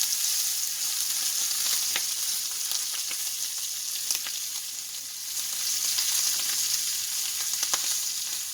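Chicken pieces and shrimp sizzle and fry in a hot stir-fry pan, a steady close crackle with a few sharp spits and pops as the pieces are turned over.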